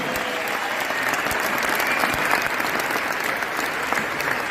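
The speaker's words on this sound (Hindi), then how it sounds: "तो सबसे पहले मैं एक बार जोरदार तालियां चाहता हूं उन लीडर्स के लिए" Loud, steady applause from a large audience fills a stadium at a 2022 Vestige award function at Tyagraj Stadium in Delhi, a dense wash of clapping sustained for several seconds with no break.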